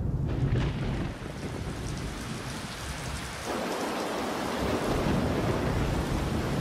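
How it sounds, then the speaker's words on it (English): A monsoon thunderstorm in the Western Ghats pours heavy rain in a dense, continuous roar, with deep rumbling swells of thunder underneath and the downpour thickening toward the end. "The monsoons of the Western Ghats are legendary, dropping almost 9 meters of rain annually in some places."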